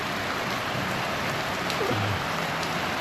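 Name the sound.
heavy rain falling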